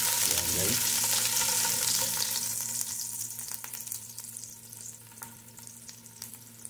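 Ginger and crushed garlic sizzle loudly in a hot oiled pan for sautéed mung beans, a dense close frying hiss that eases after a few seconds, with faint stirring clicks.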